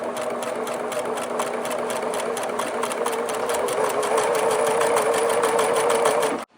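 A sewing machine double stitching an old t-shirt runs in a steady, fast mechanical whir with rapid needle clatter, loud and close, continuing unbroken for several seconds before stopping abruptly.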